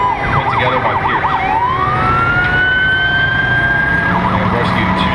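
A 2007 Manheim Township rescue engine rolls through a parade with its siren wailing loudly up close, a rapid yelp pattern sliding into a long rising wail, then back to yelping.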